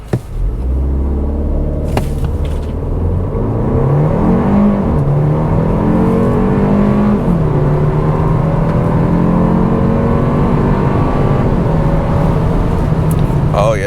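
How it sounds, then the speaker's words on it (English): A 2025 Kia K4 GT-Line turbo car in automatic mode accelerates hard. The engine drone climbs steadily in pitch, drops back at two shifts and rises again, close and loud from inside the cabin. "Oh yeah, that acceleration feels nice."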